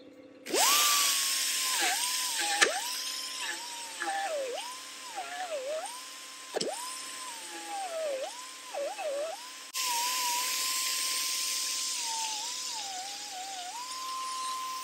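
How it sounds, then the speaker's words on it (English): A small power sanding disc grinds the corners of plasma-cut flat steel, a high whirring tool whine that dips and recovers as it bites the metal, close and steady with brief stops. "So now I'm just going to take a little sanding disc to clean these corners up."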